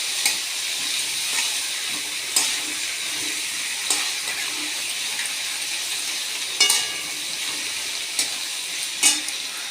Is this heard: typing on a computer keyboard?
no